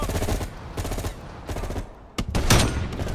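Pistol gunshots in the video game Call of Duty: Black Ops Cold War, several sharp shots in a loose, uneven rhythm with short gaps, loud and close, one heavier blast near the end, no speech.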